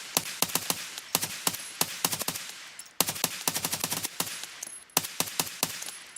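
Gunfire in Escape From Tarkov comes in sharp, loud bursts of rapid shots, with short pauses between the volleys.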